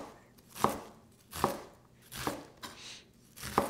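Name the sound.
knife finely dicing onion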